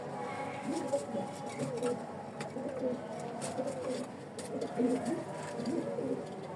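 Pigeons cooing softly in a domestic loft, low repeated coos rising and falling over a steady background murmur with light rustling and faint clicks, no clear talk.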